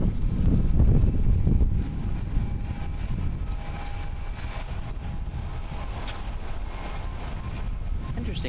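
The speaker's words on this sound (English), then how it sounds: "there's Japan Airlines Flight 20 coming in from Beijing" A Japan Airlines Boeing 787-8 Dreamliner arrives at Haneda International Airport in Tokyo, a distant, steady jet roar with wind buffeting the microphone, loudest at the start and then a sustained engine drone, with people talking over it.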